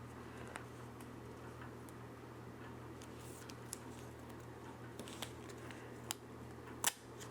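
Scissors or a blade cutting a planner sticker along a small ruler, a few faint, sparse ticks and snips close by over a steady low hum, with one sharper click near the end.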